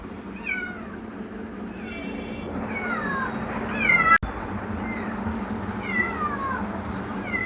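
A cat meows repeatedly in rising and falling cries at moderate distance in a home, over steady low background hum with a brief sharp click midway.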